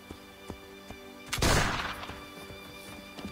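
A single loud arquebus shot from Assassin's Creed Brotherhood gameplay cracks out mid-clip and fades slowly, with faint softer pops before and after and steady background hum.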